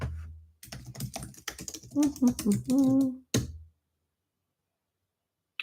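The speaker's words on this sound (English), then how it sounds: "I'll type it in the chat." Someone types an email address on a computer keyboard: a quick run of close key clicks, partly under a speaking voice, ending with one sharp click and then silence.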